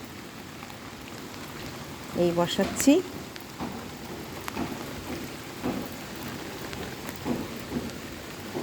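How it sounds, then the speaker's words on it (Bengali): Steady heavy rain patters on a rooftop over a constant hiss, with a person speaking briefly in the foreground and occasional louder bumps nearby. "আমাদের এখানে এখন জোরে বৃষ্টি এসছে।"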